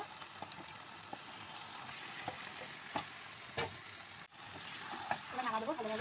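Chicken meat frying in oil with a yogurt masala, cooked for a homestyle red chicken curry: a steady, soft sizzle with scattered stirring clicks and scrapes, and a faint hum underneath.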